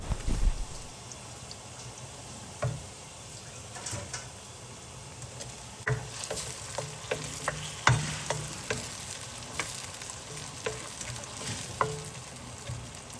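Spices including star anise and kalpasi fry in a pan over medium-low heat for a banana flower curry, a soft steady sizzle broken by repeated light spoon taps and stirring clinks.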